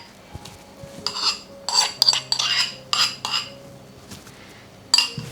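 Butter spooned into a mixing bowl for blueberry muffins, heard as a series of close utensil clinks and scrapes against the bowl, with short bursts and pauses between them and no talk.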